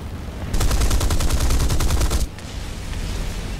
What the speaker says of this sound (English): Oh, I got hit by the anti-aircraft fire.